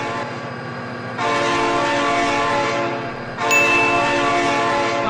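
Train horn in the driving simulator BeamNG.drive, long sustained multi-tone blasts that swell louder twice, sounding near and powerful over a low rumble of the moving train.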